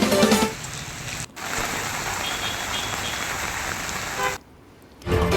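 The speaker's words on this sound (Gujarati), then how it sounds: "વીજળીના કડાકા સાથે વરસાદ વરસ્યો।" Steady rain pours down during a storm around Rajkot, Jasdan and nearby villages, a dense, even hiss that holds for several seconds. It dips near the end, and there are no clear thunder cracks and no voices.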